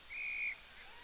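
A referee's whistle at a women's Australian rules football match sounds one short, steady shrill blast of about half a second, clear over faint open-air background noise.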